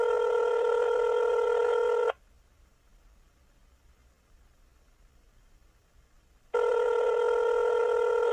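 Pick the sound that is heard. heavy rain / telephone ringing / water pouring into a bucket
telephone ringing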